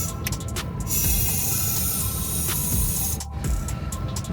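Aerosol spray hisses steadily and close up on an old Ford Bronco truck that has sat unstarted for five years, with a brief pause near the end before the spray resumes.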